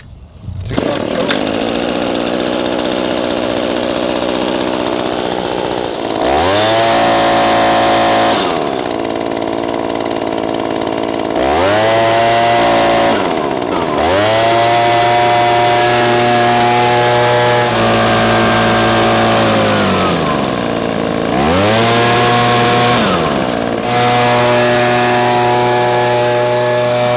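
An ECHO PB-2620 handheld two-stroke leaf blower is started, then runs loud and close, revving up and down in several repeated throttle surges between steadier idle stretches.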